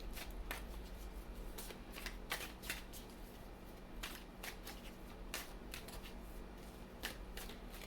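Cards are shuffled to draw a final card, with soft riffling and snapping bursts repeating steadily at close range and low volume.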